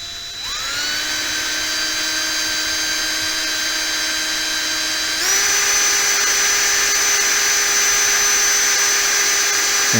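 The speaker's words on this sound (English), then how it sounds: "if you start cutting and you put this in your drill again, then you just press in the brass" A steady high-pitched motor whine from a drill driving a case trimmer cutting brass cartridge cases runs continuously, close and loud, rising slightly in pitch partway through, with no speech.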